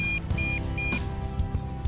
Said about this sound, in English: And now it's beeping saying, hey, you better bring me back.